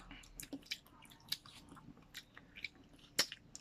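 Close, faint chewing of ripe lanzones fruit of the duco variety, with a series of small wet clicks and squishy bites spaced irregularly over a quiet background, and one sharper crunch near the end.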